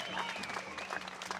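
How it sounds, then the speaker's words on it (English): An audience at a farmers' property-rights gathering in Western Australia claps steadily to welcome a speaker, a brief dense wash of applause heard from within the room. "So let's give a massive round of applause for Len Harris."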